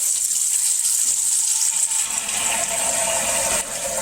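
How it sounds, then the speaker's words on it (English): Cold tap water runs steadily into a cooking pot, filled for boiling cubed potatoes. The gushing hiss stays loud and continuous throughout, with its tone shifting lower partway through as the pot fills. "we're going to run some cold water into this pot"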